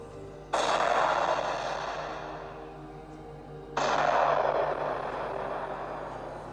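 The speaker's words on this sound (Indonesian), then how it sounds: "Bola-bola bercahaya merah itu mendadak mengeluarkan suara ledakan dan seketika lenyap di udara" Two loud, booming blasts of exploding glowing red fireballs in the air, about three seconds apart, each decaying into a long rumbling tail.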